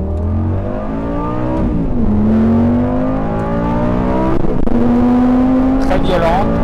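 A Lamborghini Gallardo Superleggera with a single-clutch gearbox accelerates hard. A loud, close engine roar climbs steadily in pitch, with abrupt gear changes at about two seconds and again near four and a half seconds.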